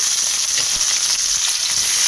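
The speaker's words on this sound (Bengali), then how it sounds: "কড়াইতে তেল দিয়ে দিয়েছি আর এবার পেঁয়াজগুলো দিয়ে দেবো" Steady, loud sizzling of onions frying in hot oil in a wok, a continuous crackling hiss with no voices.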